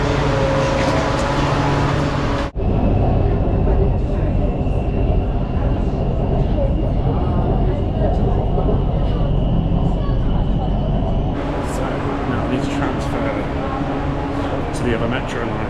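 Metro train in a Kunming subway station, a loud steady rumble and roar with a sustained whine through the middle, then clattering as the noise shifts, with a voice talking over it.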